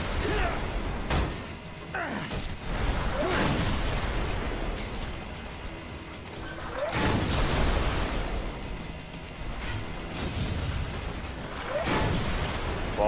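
Explosions in the video game Red Faction: Guerrilla, with several broad booming blasts and crumbling debris spread across the stretch, moderately loud with mechanical game noise between them.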